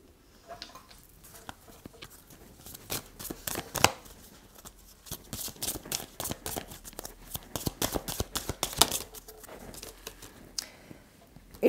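Tarot cards being shuffled by hand, a steady run of quick papery riffles and flicks that swell and ease over several seconds, close and fairly quiet with no talking.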